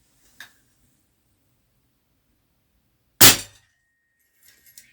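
Benjamin 3600 air rifle firing Gamo lead BBs: a single sharp, loud crack with a brief ringing tail, preceded by a faint click and followed by small light ticks.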